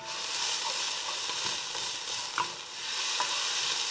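Onions get stirred in a very hot pan, a steady close sizzle and frying hiss with soft scraping stir strokes and a couple of light clinks, no voices.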